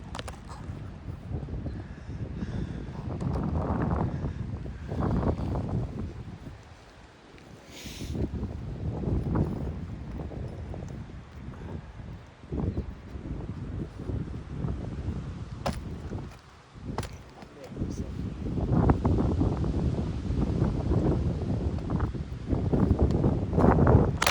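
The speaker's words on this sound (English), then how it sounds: "Windy day." Wind buffets a microphone in loud, uneven gusts, roaring and dropping off repeatedly across the whole stretch.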